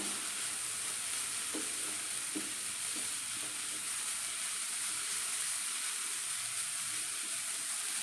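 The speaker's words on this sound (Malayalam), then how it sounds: "ഹൈ ഫ്ലെയിമിൽ തന്നെ ഇട്ട് വേണം ഇത് വഴറ്റി കൊടുക്കാൻ" Sautéing over high flame, a steady hiss of frying with a few soft scraping stirs early on, even and moderately quiet throughout, no talking.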